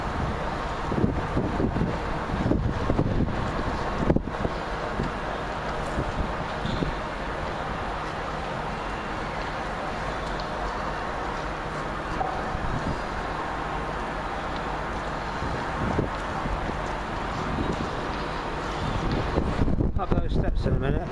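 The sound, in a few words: wind blowing in London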